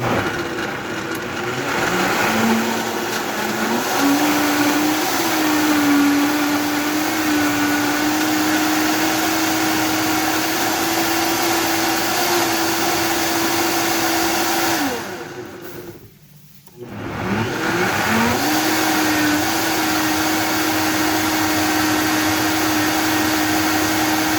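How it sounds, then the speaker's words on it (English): A blender purees peppers for a creamy salsa verde, a loud steady motor whine that rises as it spins up, cuts out briefly about two-thirds of the way through, then starts again. "we are going to blend our peppers"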